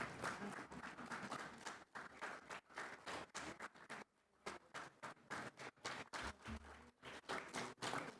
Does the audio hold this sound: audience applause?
yes